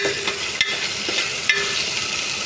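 Ginger paste frying in a curry pan, a steady close sizzle with a couple of sharp stirring taps against the pan, no voices present.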